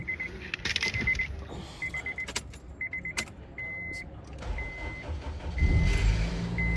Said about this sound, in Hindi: अभी बिल्कुल आवाज़ नहीं है, ज़रा से भी आवाज़ नहीं है, सिर्फ इंजन का साउंड है